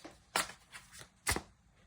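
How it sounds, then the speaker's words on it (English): Tarot cards are shuffled and drawn in a few short papery riffles and slaps, close and distinct against quiet. "So let's pull a few more cards"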